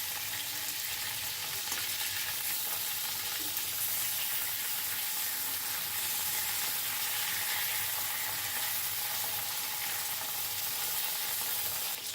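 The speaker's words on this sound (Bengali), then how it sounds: "হাত দিয়ে চিপে জলটা বার করে গরম তেলে এগুলোকে একটু ফ্রাই করে নেব।" Squeezed cabbage pieces fry in hot oil, a steady soft hiss and bubbling sizzle that holds evenly throughout with no voices over it.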